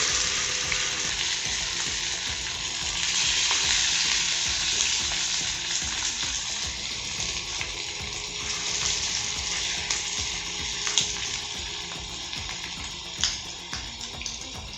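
Pakoras frying in hot oil, a steady close sizzle and crackle running throughout with faint stirring and scraping, a few brief sharper clicks near the end, and no voices.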